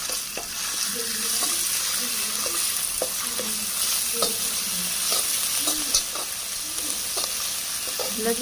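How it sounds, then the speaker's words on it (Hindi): Garlic ginger paste frying in oil in a kadhai wok, a steady, close hiss and crackle throughout, with faint scrapes of a spoon stirring now and then. "लहसुन अदरक को हम 1 मिनट तक फ्राई करेंगे।"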